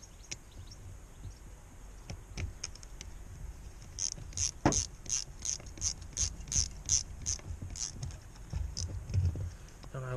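Ratchet tightening brake caliper bolts on a front brake, a quick run of sharp clicking strokes in an even rhythm, close and fairly quiet, following some scattered handling noises.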